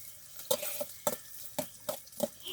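Onion, ginger and garlic sautéing in a pot on a camp stove outdoors, with a steady soft sizzle and about eight sharp clinks of a utensil scraping and stirring against the metal pot, spaced fairly evenly throughout.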